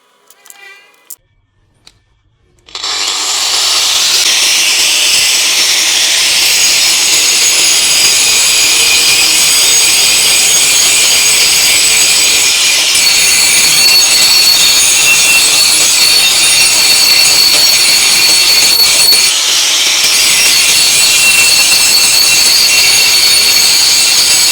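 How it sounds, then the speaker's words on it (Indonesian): A DongCheng DSM21-100E electric hand angle grinder starts after a few faint clicks, then runs at close range with a loud, steady, high-pitched whine that dips briefly once before resuming at full speed. "Pakai gerinda ya."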